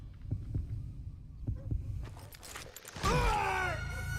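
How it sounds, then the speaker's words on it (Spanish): Heartbeat sound effect, a series of soft, low, evenly spaced thumps, about one every half second, followed at the end by a loud, rising voice-like groan. "Cuando oigas los latidos podrás sonar primero"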